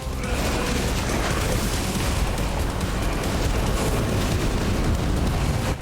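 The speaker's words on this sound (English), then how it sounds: "Did I just destroy that with a magic ball?" A magic ball smashes an object in Final Fantasy XVI, a loud sustained rumbling crash with grinding, crumbling debris filling the whole stretch.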